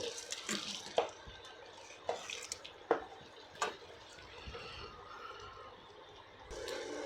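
Eggs and onion being stirred together in a bowl, giving soft wet clinks and light scraping taps at an irregular pace, close by and fairly quiet, with no talking.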